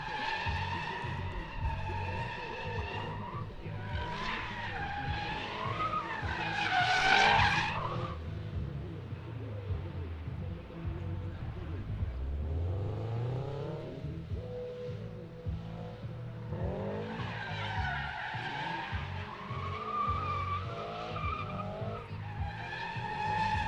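A drift car swings donuts at the Big Indian Drift Pit, engine revving hard as tires squeal and skid in long rising and falling waves, loud and close with no talk.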